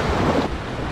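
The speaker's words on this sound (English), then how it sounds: "These waves are getting kind of rough." Rough ocean surf breaking on a beach along the Gulf coast, a steady broadband wash of waves mixed with wind buffeting the microphone, loud and continuous with a slight drop midway.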